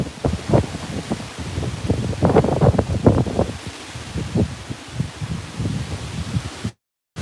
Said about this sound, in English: Really strong wind, guys.